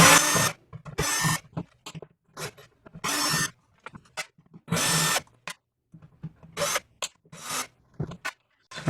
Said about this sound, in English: cordless drill just to loosen them all off.